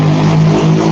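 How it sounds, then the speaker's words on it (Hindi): A motorbike running without a silencer roars loud and close in a steady, rough, unbroken drone. "ये आस-पास के बच्चे हैं जो बिना साइलेंसर की बाइक चला रहे हैं"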